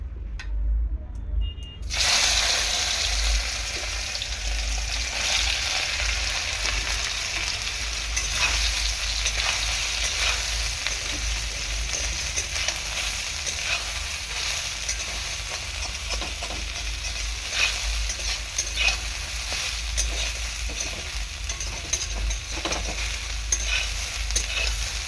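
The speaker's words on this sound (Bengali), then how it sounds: "এরকম দেখো সুন্দর করে সয়াবিনটাকে ভেজে নেব" Soya chunks fry in very hot oil in a wok with a continuous loud sizzle, while the stirring adds scraping and shuffling, and it runs on steadily with no voices.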